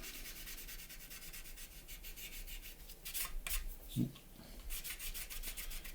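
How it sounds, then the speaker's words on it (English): A sander is rubbed lightly over a painted, airbrushed surface, giving a soft, continuous scratchy rasp that comes in short strokes, faint and close, with a brief thump partway through. "If you grab a sander, one of it that's not covered in anything that's really nasty, again, so literally just come along very lightly, just rub."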